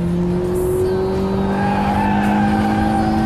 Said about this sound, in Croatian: Odličan zvuk kada auto ide u visoke okretaje.